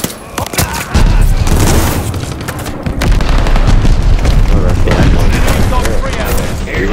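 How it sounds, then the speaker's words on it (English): Mortar shells pound down in a military shooter game, a dense run of loud booms and crackling blasts rolling almost without pause, close and heavy, with brief gaps before the barrage resumes. "They're sending mortar shells."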